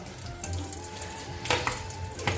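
Ghee frying in a pan, a steady close sizzle with brief louder spits and clatters near the end, no voices.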